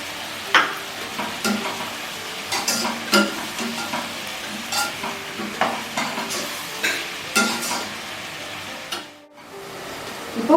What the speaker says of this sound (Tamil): வெங்காயம் தக்காளி சீக்கிரம் வணங்குறதுக்காக கொஞ்சம் சால்ட் தூவிக்கிறேன்.